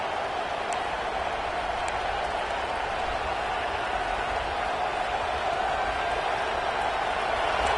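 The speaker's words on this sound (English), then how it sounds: "this crowd is at fever pitch" A packed football stadium crowd roars in a steady, dense wall of cheering at a college game between Washington and Oregon, sustained and distant with no break.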